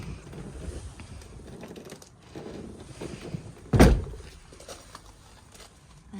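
The driver's door of an Autotrail GF80 motorhome shuts with a single loud, solid thunk, with faint handling rustles before and after it.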